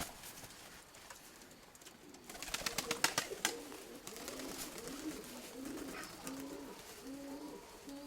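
Pigeons coo in low, throaty rolling calls, repeated steadily after a burst of sharp clattering sounds; no one speaks.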